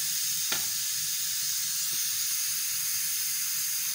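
Steam hisses steadily and loudly from a pressure cooker holding sweet potato, with a couple of faint knocks early on and no voices.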